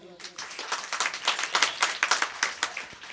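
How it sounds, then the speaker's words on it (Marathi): A kirtan audience claps together on request, a burst of rhythmic, fairly loud hand claps from a crowd, building after a quiet start and continuing steadily. "टाळी वाजूच वाटली तर वाजवायची, पण जर वाजवली तर त्याचा आवाज 2 किलोमीटर गेला पाहिजे"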